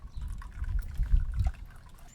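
Engine oil from an Onan 4000 RV generator draining into a bottle, a soft gurgling trickle and pour, close and low, steady for a couple of seconds.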